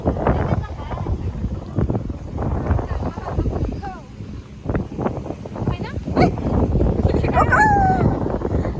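Wind gusts across a beach on Boracay, buffeting the microphone with a low, uneven rumble that rises and falls throughout, mixed with people talking nearby.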